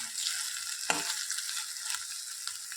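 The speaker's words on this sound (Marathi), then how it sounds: "3 ते 4 मिनटं हे खोबऱ्याच्या वाटणला आपण परतवून घेऊ." Coconut paste being sautéed in oil in a pan gives a steady, close hiss of frying, with an occasional brief scrape of stirring cutting through it.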